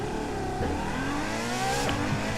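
A car engine in the racing game The Crew 2 revving hard and pulling through rising, then falling pitch sweeps, loud and close with a gritty, continuous roar.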